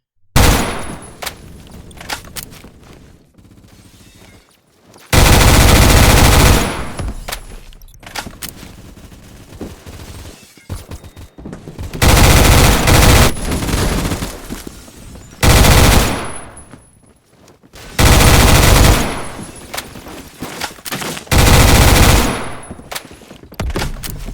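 Video game gun firing in loud bursts of rapid automatic fire, several volleys separated by short lulls of quieter ambient game sound, with no one talking.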